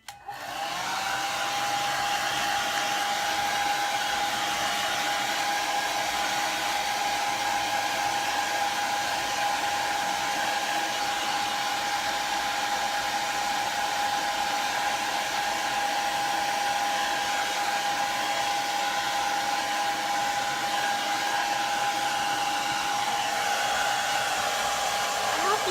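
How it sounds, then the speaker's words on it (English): A hair blow dryer runs continuously near the microphone to dry paint on a masquerade mask, giving a loud, steady whirring roar with a sustained whine that starts abruptly and holds unbroken, with no talking. "Now I'm just gonna hit it with the blow dryer and let that be a little bit more dry"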